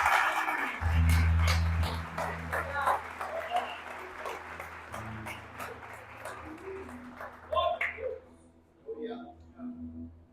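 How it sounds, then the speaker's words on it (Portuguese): A church congregation applauds during a service, a dense burst of clapping that swells early and then thins into scattered claps, with a voice speaking over it and a low sustained tone underneath. "Você consegue aplaudir a palavra do Senhor?"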